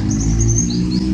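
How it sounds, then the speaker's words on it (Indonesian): Thin, high chirps of an oriental white-eye float over a loud low rumbling hum, faint against the steady background. "itu burung mulai suara seperti itu kedengar kan barusan"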